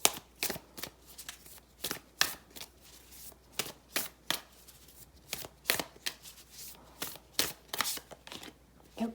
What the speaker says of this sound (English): I'm going to pull some oracle cards for you.